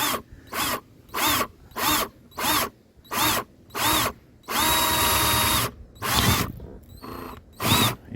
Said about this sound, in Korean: 한번 뚫어 볼게요